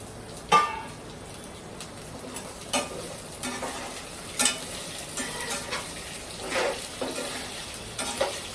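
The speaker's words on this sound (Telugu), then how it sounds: "ఇంకా దీంట్లో మనం ఈ బీన్స్ కూడా వేసేసి వేపాలన్నమాట" French beans and green peas frying for upma, a soft crackling sizzle punctuated by intermittent stirring scrapes and clicks at close range.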